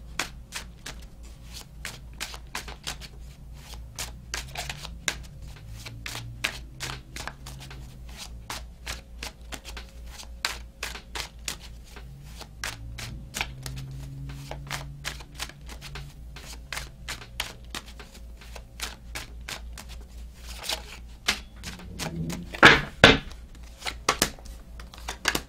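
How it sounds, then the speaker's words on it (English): Tarot cards are handled and shuffled close up, with a steady run of soft riffling flicks and papery slaps and a brisk burst of crisp card snaps near the end. No voices are heard. "I'm going to clarify the cards and pull some advice."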